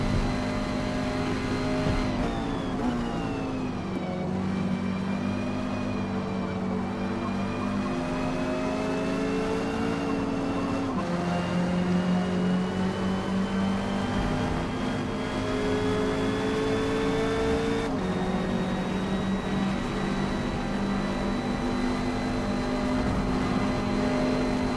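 Simulated Porsche 550 Spyder racing in B class at Hakone circuit in Forza, with a continuous engine note that climbs through each gear, drops on the shifts and holds steady, loud and up close throughout.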